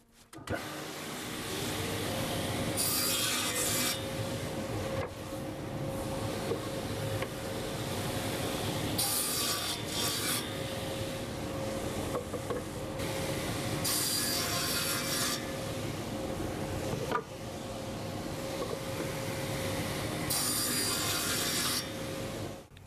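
A hand saw cuts wood for a half-lap joint on a simple workbench build: rhythmic rasping back-and-forth strokes, close and fairly quiet, in several bursts separated by brief pauses, with no talking.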